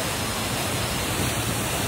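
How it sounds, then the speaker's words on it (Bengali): Water crashes hard down a jungle waterfall, a dense, loud, continuous roar heard up close with no other sounds. "কত জোরে জল পড়ছে,"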